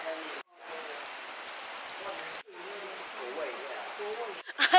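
Steady rain patters across a street market in Lampang, Thailand, a dense hiss of drops on surfaces continuing for several seconds with brief dropouts.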